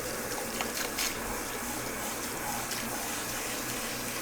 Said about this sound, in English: Keep the hair in a downward motion with lots of water pressure.